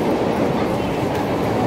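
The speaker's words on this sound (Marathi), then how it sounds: "तर इथे ट्रेन" A Mumbai local train runs with a dense, continuous rumble and rattling clatter of wheels on track, heard close and loud from on board or beside it, with no talk.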